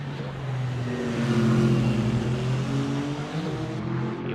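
GT3 race car engines roar steadily in a racing video game at Sepang, several cars droning together with rising and falling engine pitch, loud and continuous with no voices.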